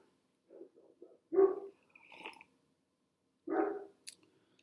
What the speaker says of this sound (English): Those are my dogs in the backyard, just barking along.